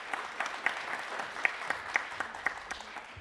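Audience applause at a children's and youth council opening ceremony in Gwangju, a steady crowd clapping with a few sharper individual claps standing out over the whole stretch.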